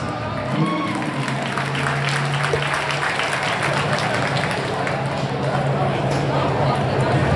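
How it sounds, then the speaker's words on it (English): A crowd at a V8 car racing event applauds, the clapping steady and moderately loud over a low, constant drone. "Round of applause."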